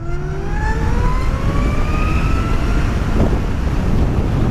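A Zero SR electric motorcycle pulls away with a rising whine from its motor that climbs in pitch, all under steady, heavy wind roar from riding.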